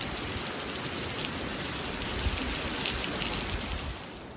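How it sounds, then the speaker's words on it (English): Heavy rain pouring down outside a garage, a dense, even hiss of drops on surfaces holding steady at moderate volume throughout, with no speech. "It's so much rain I had to close the door."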